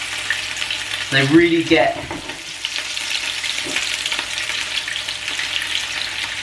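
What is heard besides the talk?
meatballs frying in oil in a pan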